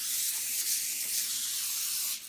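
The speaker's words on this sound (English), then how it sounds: "So we're gonna spray first canola oil so it won't stick" Canola oil cooking spray released from a can onto foil, a continuous close airy hiss lasting about two seconds before cutting off.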